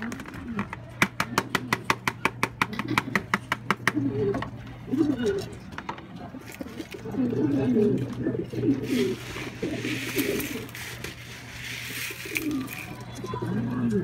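Pigeons in a breeder's loft coo in low, repeated rolling calls, with a rapid series of clicks near the start and a steady hum underneath, close by and fairly quiet.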